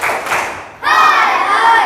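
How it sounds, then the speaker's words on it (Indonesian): A school class of pupils does the tepuk semangat spirit chant, with a short burst of group clapping followed by a loud, sustained chorus of young voices calling out together. "Coba tepuk semangat."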